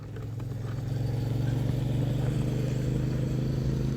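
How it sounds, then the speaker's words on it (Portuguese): A motorcycle passes close by on a street, its engine rumbling and clattering steadily at a constant level for a few seconds, with no voices. "passou uma moto bem aqui."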